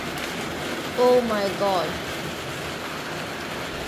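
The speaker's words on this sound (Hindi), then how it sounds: "यहाँ पर देखिए इतनी ज़ोरदार बारिश हो रही है आज" Heavy morning rain pours down in a steady, dense hiss throughout, with a brief exclamation from a voice heard over it.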